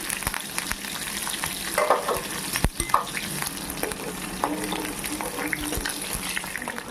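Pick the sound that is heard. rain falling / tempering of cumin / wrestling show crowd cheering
tempering of cumin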